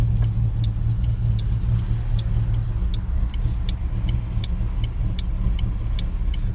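A 2008 Ford Mustang 4.0 V6 idles nearby with an idle chop mod engaged, a low rumbling lope with evenly spaced pulses repeating about every 0.7 seconds, and no talking over it.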